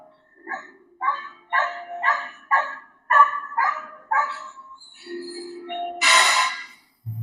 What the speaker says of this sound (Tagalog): Ganyan talaga ang aso.